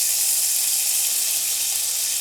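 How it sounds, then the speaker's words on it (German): Butter sizzling in a frying pan, a steady close hiss of bright broadband crackle that holds evenly throughout without pauses or voices. "dann geben wir jetzt als allererstes die Butter in die Pfanne"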